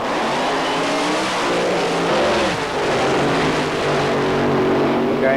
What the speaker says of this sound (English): now on to another fun car of Oxy Driven, also of Switzerland, and the funny car handled by Mika Kägered of Sweden.